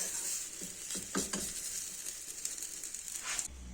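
Vegan batter dropped into hot oil in a small mini pan, giving a steady bright sizzle throughout with a few soft utensil clicks, close and fairly quiet, stopping abruptly near the end.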